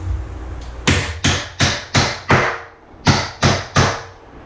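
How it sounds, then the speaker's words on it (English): Eight sharp hammer strikes on a nail during a bathroom remodel, close and loud, in an uneven rhythm with brief pauses between blows. "Hammering."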